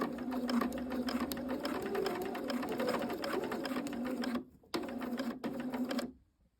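A sewing machine stitches a bias binding seam along the diagonal, a steady rapid mechanical whir with fine ticking that runs close and loud, stops briefly, restarts for a short burst, then ends.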